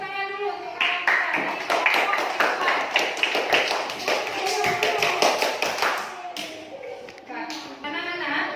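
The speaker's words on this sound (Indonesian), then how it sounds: "Coba kasih tepuk tangan dulu untuk kawan kita." Children in a classroom clap together in quick, close, uneven bursts, the clapping thinning and breaking off near the end while young voices chatter over it.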